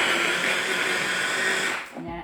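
A small blender strains against a thick quinoa protein ball mixture, a loud high whirring motor that labours steadily and then cuts out near the end.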